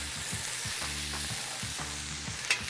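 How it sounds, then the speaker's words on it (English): Rice burger patties sizzle steadily on a grill brushed with soy sauce, a constant hiss of frying with soft intermittent scraping and stirring noises, no voices. "So on the grill, I put a little bit of soy sauce on there."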